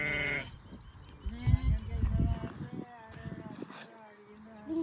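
A flock of sheep and goats bleating nearby, with a few scattered calls breaking through while people talk over them.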